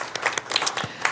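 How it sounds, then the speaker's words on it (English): Sparse clapping from a transportation authority board meeting audience honoring a board member, a few distinct hand claps scattered irregularly at moderate level rather than a full ovation. "let's give him another big round of applause"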